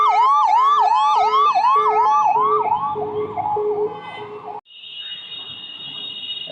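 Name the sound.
ambulance siren in city traffic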